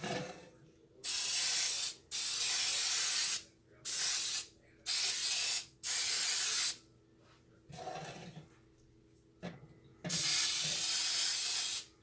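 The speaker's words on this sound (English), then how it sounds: "We're going to go ahead and spray our pan with this baker's jar." Cooking spray hisses onto a baking pan for a peach cobbler pound cake in about seven sharp bursts. Most bursts last around a second, the final one runs longer, and short quiet gaps separate them.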